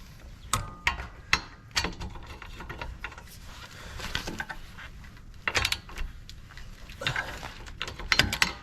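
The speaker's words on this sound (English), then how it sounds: "Put the extension back on and then just tighten down the one on the bottom." Ratchet clicks and metallic clatter as an extension socket tightens a lug nut on a 2018 Subaru Outback wheel, with several sharp bursts of clicking spread through a close, busy garage scene.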